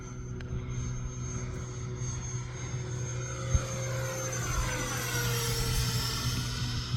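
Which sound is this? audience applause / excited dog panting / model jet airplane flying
model jet airplane flying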